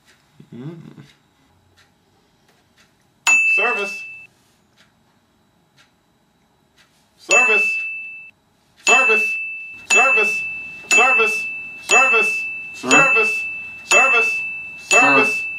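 A service bell is struck repeatedly, first with two spaced rings and then seven quick ringing dings in a row, each bright tone fading before the next, with a brief voice at the start.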